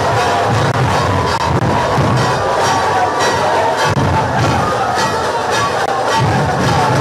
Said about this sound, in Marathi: त्याचवेळी ढोलताशांचा गजर होतोय.